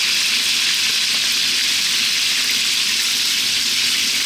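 Garlic, chili flakes and torn lime leaves sizzle steadily in a hot pan for a Thai chicken stew, a dense, continuous frying hiss, close and loud, with no voices.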